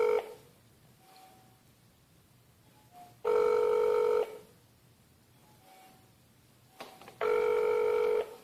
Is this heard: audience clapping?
no